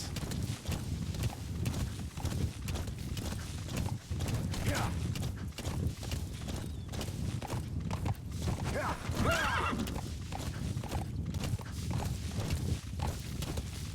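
Steady clip-clop of horse hooves in a quick walking rhythm in the video game Metal Gear Solid V, with a couple of horse whinnies breaking through partway along.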